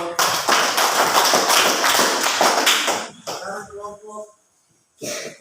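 A classroom group applauds with dense, lively clapping for about three seconds, then it thins to a few scattered claps and stops, with a brief burst of handclaps again at the end.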